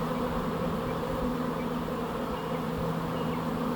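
A large honeybee swarm that has settled over a trailer drones in a steady, dense buzz that fills the air without pause, fairly loud and close, with no voices.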